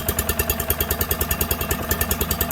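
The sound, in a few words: giant vac leaf blower engine idling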